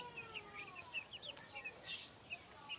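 Layer hens let out of their coop give soft, intermittent clucks and short calls, faint and slightly distant, scattered across a quiet yard with no talking.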